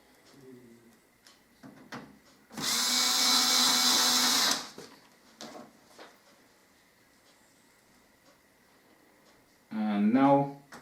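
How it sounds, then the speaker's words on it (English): Power screwdriver driving a screw, one steady whirring burst of about two seconds, close and loud, with scattered handling clatter around it and a person speaking briefly afterward. "Helps if you engage the right direction for your screwdriver."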